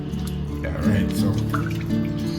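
Raw chicken rinsed in water, with running liquid splashing and dribbling close by while a person speaks over it.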